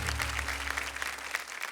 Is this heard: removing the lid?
no